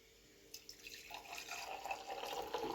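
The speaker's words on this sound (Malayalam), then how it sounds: "അതിനി നമുക്കൊരു ഗ്ലാസ്സിലേക്ക് ഒഴിച്ചു കൊടുക്കാം." Strained lime juice, blended in a mixer jar, pours into a glass for restaurant-style lime juice, a steady liquid trickle and splash that builds after a few early drips and runs on alone without talk.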